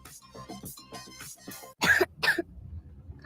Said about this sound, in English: What about my cough?